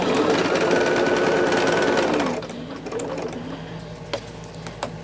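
A sewing machine stitches two pinned quilt block rows together, whirring loudly and steadily up close for just over two seconds before it stops. A few light clicks and soft handling noises follow in the quieter room.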